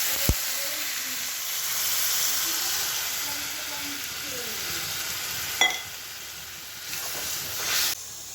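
Water poured into sizzling masala for a pond snail curry, giving a loud steady hiss and frying crackle with a sharp clatter midway and a brief surge of steam near the end.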